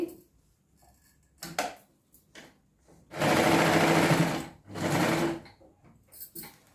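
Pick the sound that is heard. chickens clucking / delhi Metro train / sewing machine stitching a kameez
sewing machine stitching a kameez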